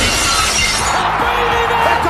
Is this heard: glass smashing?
yes